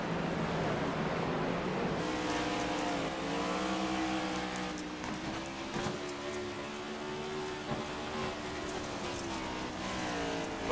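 Stock cars racing around the Bristol short track, a steady, loud roar of several engines blending together, with the pitch rising and falling as they lap and no break in the sound.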